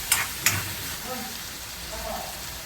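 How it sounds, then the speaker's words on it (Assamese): Leucas aspera greens fry in a wok with a faint, steady sizzle after a sprinkle of water, broken by two quick scrapes of stirring near the start. "এতিয়া অকণমান লাগি ধৰা যেন লগাত মই পানী এটুপ চাৰিওফালে দি লৰাই দিছোঁ।"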